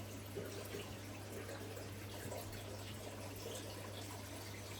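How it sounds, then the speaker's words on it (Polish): Water pours steadily into a barrel, a faint continuous splashing rush with a low hum underneath. "ja sobie tutaj leję już wodę do beczki"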